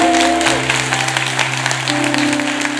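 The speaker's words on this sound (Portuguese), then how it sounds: "Pode aplaudir o Senhor, pode celebrar." A church congregation at a Pentecost vigil claps together during a sermon, a broad mass of hands heard over sustained organ or keyboard chords, loud and continuous throughout.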